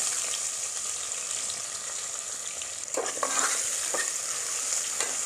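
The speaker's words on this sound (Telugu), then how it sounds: "బాగా పచ్చివాసన పోయే వరకు అయితే మనము వేపుకోవాలి ఎర్రగడ్డల్ని" Chopped onions fry in oil with mustard and cumin seeds, giving a dense, steady sizzle close up. A few scraping stirs break in partway through, and no one speaks.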